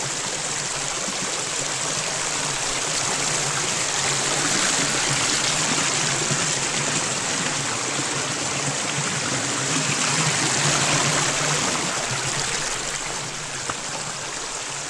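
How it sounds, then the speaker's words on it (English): Steady rushing of a creek flowing over rocks on the Boogerman Trail in the Great Smoky Mountains, close and continuous, with no voices. "Creek crossing, gotta cross that creek."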